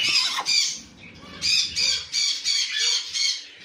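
A bird kept by a breeder gives a run of loud, rhythmic chirps and squawks, about seven bright bursts in quick succession, close to the microphone with no talk.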